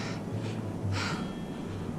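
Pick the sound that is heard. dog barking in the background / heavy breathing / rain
heavy breathing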